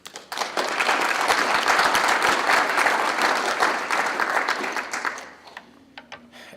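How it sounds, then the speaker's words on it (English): Conference audience applauding at a Maryland Torch Run event, a dense sustained round of clapping from a large crowd that fades out near the end. "I think you all deserve a round of applause."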